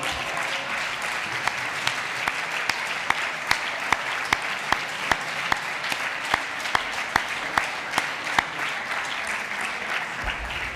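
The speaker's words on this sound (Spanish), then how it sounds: "le vamos a dar un aplauso porque Luisma" An audience at a summer school event applauds a birthday, a sustained even round of clapping with sharper individual claps standing out, steady throughout with no voices.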